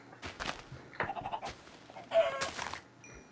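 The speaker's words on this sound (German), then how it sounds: "aber Hühner höre ich hier." Chickens in the Minecraft video game cluck in short, separate bursts, several distinct calls at moderate volume with quiet gaps between them and no talk.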